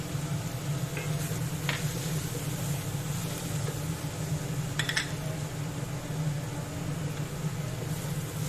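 Chopped tomato sizzling in a hot pan of oil: a steady, even frying hiss with a low hum beneath and a few faint clinks, continuous throughout with no talking.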